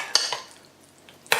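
A 9x9 Pyrex glass baking dish is handled in a kitchen, giving a few short, sharp clinks and knocks close by, one early, a softer one after, and another near the end, with quiet between.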